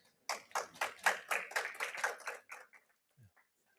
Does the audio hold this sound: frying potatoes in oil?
no